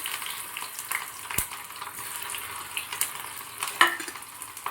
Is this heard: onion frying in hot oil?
yes